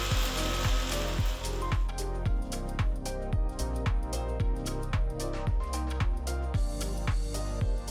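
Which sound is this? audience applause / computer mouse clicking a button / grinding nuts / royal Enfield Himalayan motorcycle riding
grinding nuts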